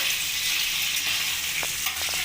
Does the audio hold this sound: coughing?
no